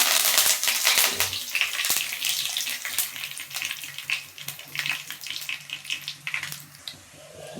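Curry leaves hit hot oil already crackling with popped mustard seeds and urad dal while tomato thokku is being made, giving loud bursts of sharp sizzling and spattering that gradually settle into steadier, fainter crackles.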